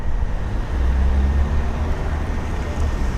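A BMW i8 sports car pulls up nearby with a steady low engine and road rumble that swells slightly and holds for a few seconds, with no voices over it.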